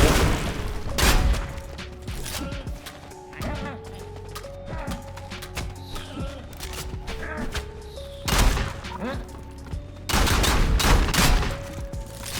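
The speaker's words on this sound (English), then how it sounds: "I do like having a shotgun that's this accurate at range." Shotgun blasts in the video game Sulfur boom loud and close at spaced intervals, each followed by a short tail, over a steady tonal game soundtrack.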